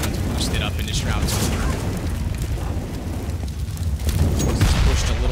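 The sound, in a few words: grenade explosion in video game Counter-Strike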